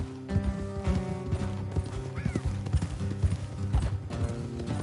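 Horse hooves clip-clop in Red Dead Redemption II, a steady run of close hoofbeats over a busy game soundtrack of music and ambience, with no talking.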